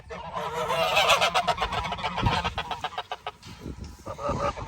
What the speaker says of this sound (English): Sorry, Trudy, the geese wanted some of that cake